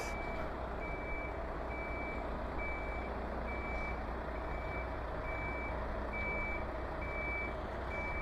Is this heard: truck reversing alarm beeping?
yes